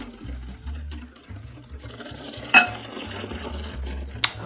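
A spoon or whisk works steadily through egg yolk pastry cream in a pan on the stove, a soft continuous scraping and swishing with a couple of light clinks, close and without talk.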